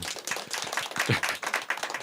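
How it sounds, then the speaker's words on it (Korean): A congregation at a Sunday church worship service breaks into congratulatory applause, a dense group clapping that stays steady and close for about two seconds. "일단 우리 축하의 박수."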